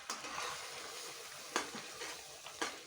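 Green banana kofta pieces stir-fried in masala in a pan, a steady close sizzle broken by a few sharp scraping stirs, with no talk.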